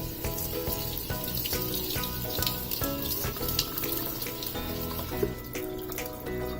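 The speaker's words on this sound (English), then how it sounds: "And I need to put some cold water." Cold water runs steadily from a kitchen tap onto cooked pasta, a continuous loud splashing rush with no talk over it.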